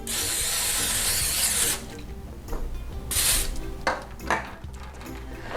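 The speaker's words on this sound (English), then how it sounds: "Okay, I need my cooking spray." A long hiss of cooking spray into a pan, followed by two shorter bursts amid light clatter.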